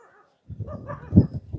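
Dogs bark at a home in Kaluvanchikudy where an elderly couple lives with many dogs, a burst of barks and yips rising after a short quiet start, fairly close and loud, with the loudest bark near the end.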